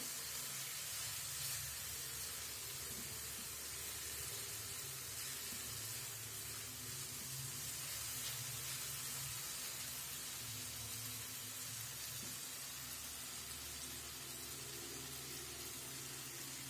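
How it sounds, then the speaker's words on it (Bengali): Spices for a fish curry (tel jhal with karfu fish) sautéing in a pan after a splash of water, giving a steady close sizzle and hiss that runs evenly throughout with no talking. "এখন আমি ভালোভাবে কষিয়ে নেব মশলাগুলো।"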